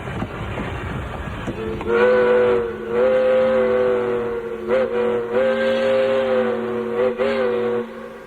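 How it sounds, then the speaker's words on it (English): A train engine pulling toward a main-line switch sounds a long, loud steam whistle in several sustained blasts with brief breaks, over a rumbling, clattering rail background. "Listen to the sound of this engine."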